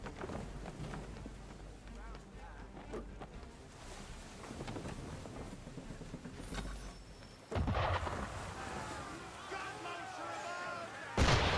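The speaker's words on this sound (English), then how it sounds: "Why is he shooting at us?" Gunfire aimed at a ship in Assassin's Creed 3 booms and cracks repeatedly over wind and sea noise, with characters speaking throughout.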